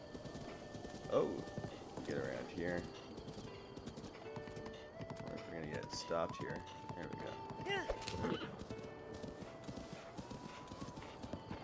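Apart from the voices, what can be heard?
horse hooves clip-clop while riding, video game Breath of the Wild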